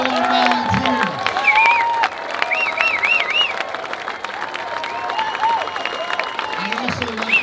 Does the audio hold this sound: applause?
yes